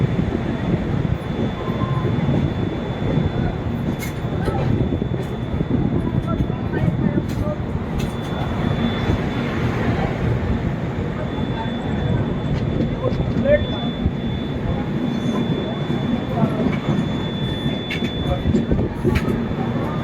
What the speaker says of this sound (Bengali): একদম অন টাইম আমাদের ট্রেন ধানবাদ জংশন ছেড়ে দিয়েছে